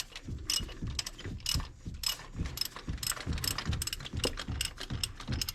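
Close, quick ratcheting clicks from a socket wrench with a small extension loosening an oil pressure sensor on a Dodge Ram, in short repeated bursts with brief pauses between.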